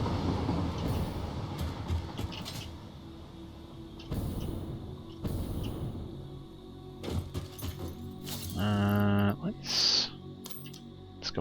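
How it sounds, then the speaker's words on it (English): A train rolls along a track in the factory-building game Satisfactory, a steady rumbling clatter with a short burst of rhythmic clacking near the end. A person talks over it throughout. "There goes the train."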